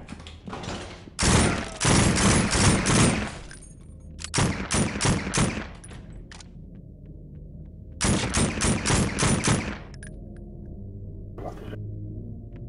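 Bursts of automatic gunfire in the SWAT 4 game, three loud rapid volleys of one to two seconds separated by quieter gaps, with faint voice chatter in the background.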